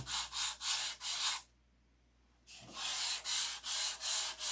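Sandpaper is rubbed by hand over a model airplane in loud, even back-and-forth strokes. The strokes come in two bursts split by a short pause, with no talking.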